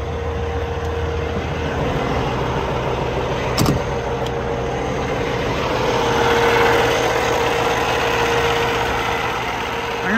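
A 2016 Volvo VNL670 truck with a Cummins ISX engine runs at raised idle, giving a steady, close diesel drone with an even rumble, heard alone.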